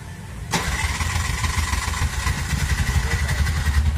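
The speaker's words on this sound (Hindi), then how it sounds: "अब गाड़ी को स्टार्ट करना है।" A Bajaj BS6 four-stroke auto rickshaw with an MIL light fault cranks and catches with a sharp start. It then settles into a loud, even, chugging idle nearby.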